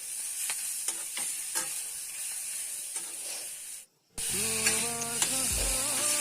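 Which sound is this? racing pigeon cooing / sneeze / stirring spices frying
stirring spices frying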